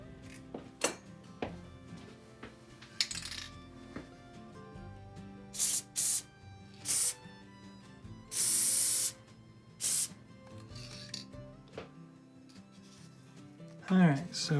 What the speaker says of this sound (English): I'm going to try doing spray glue on the main tree and attaching these with spray glue.